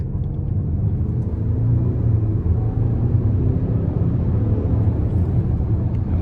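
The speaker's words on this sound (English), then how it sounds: "Love the turbo boost sound as well." A 2025 Lincoln Nautilus Black Label hybrid accelerates hard with turbo boost, giving a loud, steady engine and road rumble that builds slightly midway, heard from inside the cabin with no talking.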